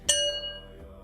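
A singing bowl or bell is struck once, giving a bright metallic ring that decays over under a second, with a faint dull knock following shortly after.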